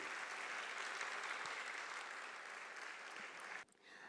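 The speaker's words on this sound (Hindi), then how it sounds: "आप अपने लिए एक जोरदार तालियां बजाएं।" Audience applause at a reception session of a spiritual gathering, a dense, steady wash of many hands clapping that holds evenly for several seconds before dropping away abruptly near the end.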